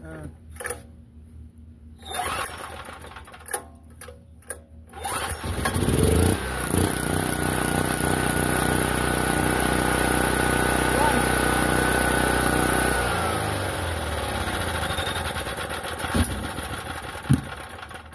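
An ETQ 6000 portable generator, just repaired after a carburetor problem, starts after some clanks and tries, then runs with a loud, steady mid-pitched engine drone that eases slightly, while people talk nearby.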